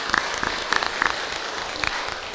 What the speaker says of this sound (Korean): 여러분 은혜스러운 찬양 박수하겠습니다